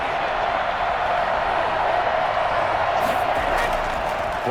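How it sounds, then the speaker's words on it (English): A stadium crowd at an American football game roars in a steady, dense wash of cheering and voices, loud and continuous, with a slight swell toward the end. "Crowd getting in it a bit already."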